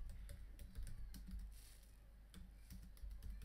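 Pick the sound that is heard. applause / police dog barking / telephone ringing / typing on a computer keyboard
typing on a computer keyboard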